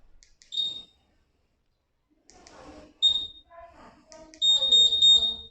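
A Honda Click 150i scooter's remote answer-back system emits sharp, high-pitched electronic beeps, a few short chirps and then a longer sustained tone, close and clear, with quiet talking mixed in.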